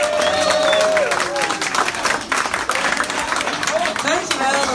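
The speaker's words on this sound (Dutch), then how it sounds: "Ik wil even een groot applaus voor Yvonne." A crowd at a Dutch charity event for the Stichting Tien tegen MS applauds loudly and steadily as a guest walks in, with cheering voices and shouts mixed into the dense clapping.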